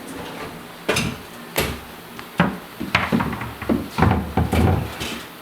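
Wooden kitchen cabinet door from a Rockwood Kitchens installation being fitted onto pre-drilled hinges, giving a series of sharp knocks, clicks and clunks of wood and metal, several close taps spread irregularly over a few seconds.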